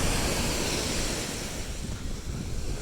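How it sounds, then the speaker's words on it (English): Ocean waves break on Karon Beach in Phuket, Thailand, making a continuous loud wash of surf with wind rumbling across the microphone. "the waves are smaller here"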